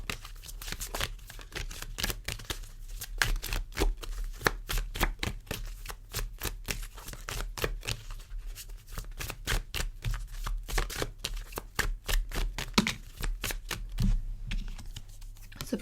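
Oracle cards shuffled in steady, rapid riffles and slaps, a dense run of crisp card flicks close by that continues throughout with no talking.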